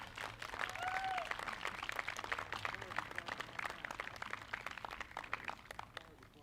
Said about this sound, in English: Can we give them a little bit of a round of applause?